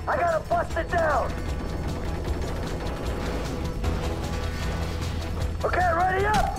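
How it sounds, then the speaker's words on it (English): Heavy thuds and mechanical clatter of a stuck door being forced open during a heist raid in a GTA game, heard under a busy game soundtrack with musical phrases at the start and end. "door's stuck! I gotta bust it down!"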